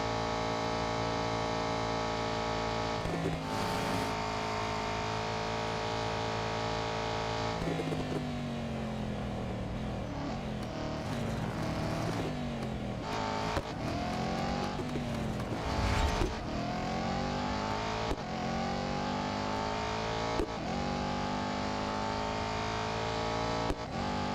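Race cars in the Real Racing 3 video game roar steadily through a long stretch, engine pitch climbing and dropping with gear shifts and cornering, with occasional whooshes and impacts of other cars passing.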